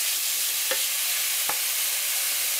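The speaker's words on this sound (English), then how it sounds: "I just put the ground beef in" Ground beef browns in a pot for pasta gravy, producing a loud, dense and steady sizzle with two brief stirring clicks.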